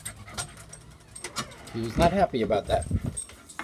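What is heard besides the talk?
dog panting and whimpering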